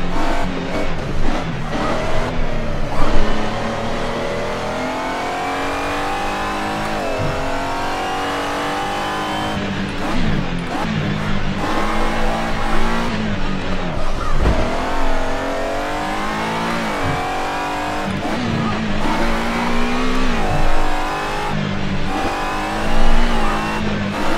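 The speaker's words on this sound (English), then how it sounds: "And the sound of that gear change." An Alfa Romeo 155 V6 Ti rally car in Assetto Corsa Rally revs hard and continuously, its engine pitch climbing and dropping sharply with each gear change, with occasional tire squeal and skidding throughout.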